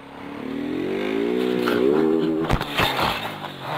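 Motorcycle engine revving up close with a rising, then falling pitch, followed by clattering and scraping noises.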